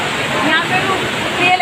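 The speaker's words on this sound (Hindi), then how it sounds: "पीछे आ रहा है झरने का खूब तेज पानी" Rushing waterfall water roars as a steady, dense wash behind someone talking in Hindi, at a waterfall on the pilgrimage route to Vaishno Devi in Katra.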